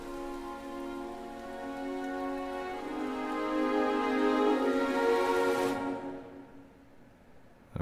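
Steady rain falling on a town in the video game Rain, a dense continuous patter with tonal musical layers over it that fades out near the end, no talk.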